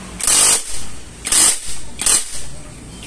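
Impact wrench seating a ball race on a Honda Click scooter, firing three loud, close, buzzing bursts of about half a second each, separated by short pauses, with no talk over them.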